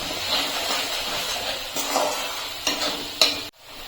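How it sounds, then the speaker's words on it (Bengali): Turmeric, coriander, cumin and chili powders sauté in hot oil for a vegetarian cauliflower curry. A steady close sizzle runs under repeated spatula stirring scrapes, then cuts off abruptly near the end. "হলুদের গুঁড়ো ধনের গুঁড়ো জিরে গুঁড়ো এবং সব মশলাগুলোকে আমি ভালো করে কষিয়ে নেব"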